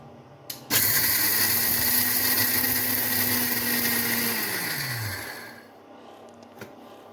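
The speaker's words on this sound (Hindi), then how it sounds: "तो देखिए मैंने ये चने लिए हैं भुने हुए, और मैं अब इनको ग्राइंड करूँगी।" An electric grinder whirs loudly as it pulverizes roasted chickpeas, starting abruptly, running at a steady high-pitched hum for several seconds, then winding down and stopping, with a couple of small clicks afterward.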